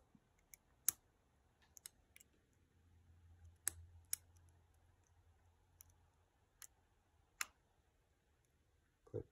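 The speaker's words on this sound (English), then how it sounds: "Click, click, all set. Clicky and springy." Sharp, sparse clicks of a lock being picked as pins set against stiff springs in a registered challenge lock, about eight distinct close ticks spread irregularly with quiet gaps, over a faint low hum.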